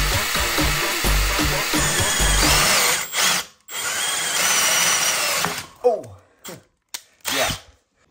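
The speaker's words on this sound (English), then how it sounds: "I add a drill bit to my drill and get to work." An electric drill whirs loudly and steadily boring a hole in metal for a torque arm on an electric motorcycle, pauses briefly, then grinds on before ending in short bursts and clicks as the bit stops.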